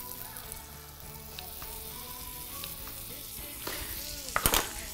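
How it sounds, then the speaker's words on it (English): Two tablespoons of butter melting in a cast iron pan before tilapia is pan-fried, a steady crackling sizzle that swells into a brief louder burst near the end, close and without speech. "First, we're gonna add 2 tablespoons of butter into this pan."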